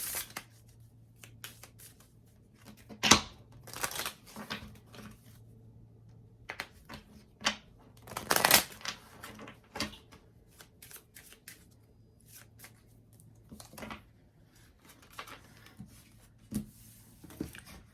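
Angel oracle cards being shuffled by hand, crisp riffling bursts and soft slides at irregular intervals, close and fairly quiet, with short pauses between each run of shuffling.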